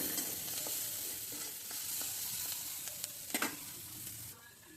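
Onions frying in a pan give a steady, even sizzle with a few scattered clicks and scrapes from stirring. The sound is moderate and continuous, with no voices.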